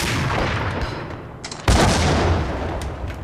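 Gunfire in the video game Max Payne: a steady roar of shooting, with a sharp, loud blast about halfway through, then continued rumbling fire.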